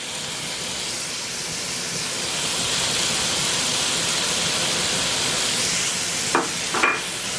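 Garlic hissing in a hot pan for drunken noodles, a loud, steady broadband sizzle that swells slightly as it goes on, with a couple of quick utensil taps near the end.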